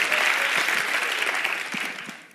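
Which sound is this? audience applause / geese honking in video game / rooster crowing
audience applause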